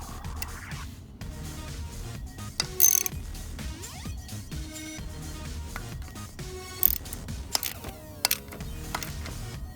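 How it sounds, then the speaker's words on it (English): A small bolt is ratcheted down to compress a valve spring during a repair, giving a busy run of quick clicking pawl strokes with a few louder metallic knocks, close by and with no talking. "then you ratchet this little bolt down, and you'll see the spring start to compress and push the valve down."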